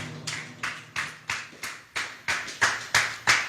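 A church congregation claps together in a steady rhythm, about three sharp claps per second, loud and close with no voices over it.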